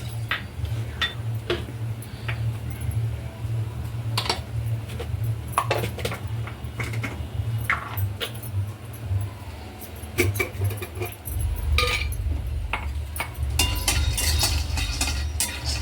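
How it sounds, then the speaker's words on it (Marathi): Peanuts are dry-roasted in a pan, with scattered clicks and rattles as they are stirred and shifted over a steady low hum, a few denser bursts of clinking toward the end. "शेंगदाणे चांगले खरपूस असे भाजून घ्यायचे"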